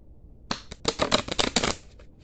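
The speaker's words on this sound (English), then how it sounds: "All right, so I'm going to shuffle the deck." A deck of playing cards is shuffled in a run of quick, crisp riffling bursts lasting under two seconds, close and fairly quiet with no talk.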